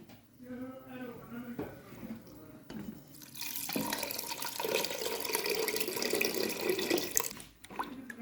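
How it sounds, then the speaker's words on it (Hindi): Someone speaks briefly, then water pours steadily into a pressure cooker of keema for several seconds, a rushing, splashing stream that stops abruptly. "अब इसके अंदर डालेंगे पानी।"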